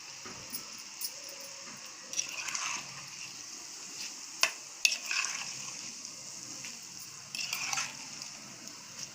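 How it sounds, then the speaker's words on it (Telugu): Amla paste is stirred bit by bit into a tempering for instant amla chutney, giving soft scraping and wet mixing sounds with a few sharp clinks and bursts of faint sizzle. "దాంట్లో కొంచెం కొంచెంగా వేసేస్తూ మంచిగా కలుపుకుందాము"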